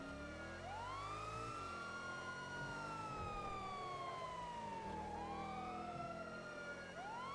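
Ambulance siren wailing in long rising and falling sweeps that repeat and overlap, heard at a moderate distance over low engine and road rumble.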